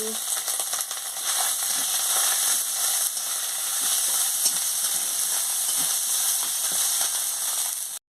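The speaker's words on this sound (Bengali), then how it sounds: "আলুটাকে ভালো করে ভেজে নিচ্ছি" Potatoes frying in hot oil with turmeric powder and spices give off a steady, loud sizzle with faint stirring scrapes throughout, without talk.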